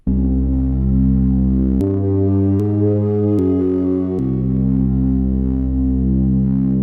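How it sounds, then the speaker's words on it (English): A thick, slightly distorted synth pad sustains a brooding chord, stepping through several note changes before settling back, dark and ominous throughout. "that's the Dystopian Pad"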